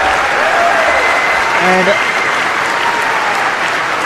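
A crowd at a grappling competition breaks into sustained applause after a match, a dense wash of clapping that stays steady throughout while a commentator talks over it.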